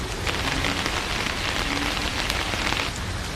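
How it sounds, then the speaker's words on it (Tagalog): Heavy rain pours steadily onto a flooded vegetable garden with cucumber plants, a dense, continuous hiss of drops hitting foliage and wet ground, close and loud throughout with no voices. "Grabe talaga yung ulan."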